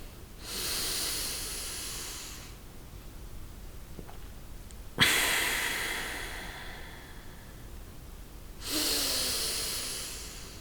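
A yoga practitioner holding the arms up breathes hard through the nose, three long forceful hissing exhalations separated by quiet pauses, close and alone.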